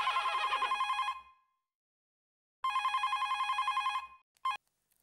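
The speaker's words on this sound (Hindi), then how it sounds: "फोन मैं लेता हूँ" An old-style telephone bell rings loud and close in a home, with two long trilling bursts separated by silence and then a brief third ring that is cut off short.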